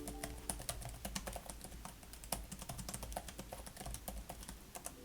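Quick, light tapping on the keyboard of an MSI Prestige 14 laptop, with steady clicks in an even rhythm, close and quiet, with no voices.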